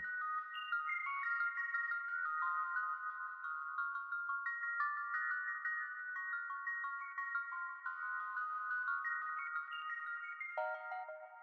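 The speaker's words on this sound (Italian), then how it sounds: "L'ho trovato completamente a caso ed è praticamente il Floating Celeste di Keyscape." A Floating Celeste synth preset plays a soft, bell-like counter melody as a single stepping line of notes, faint and alone.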